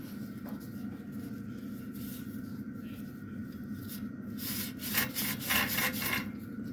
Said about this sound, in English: First, I'm going to go over this with a ragging compound that is rather coarse, but it'll get in between all of these braces and tubes.